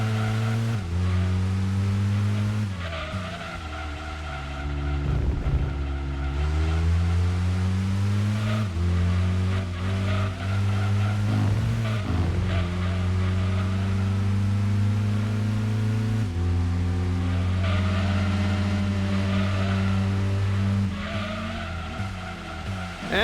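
Race car engines in Gran Turismo 2 during the Seattle City Endurance Race, a steady, loud, droning roar with shifting pitch as cars accelerate and brake, tires squealing through corners, continuous with no talking.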